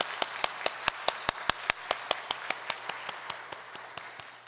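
Rhythmic unison clapping from a church congregation during a Korean Full Gospel worship service, about twenty evenly spaced sharp claps at a steady beat, close and clear over a low steady hum.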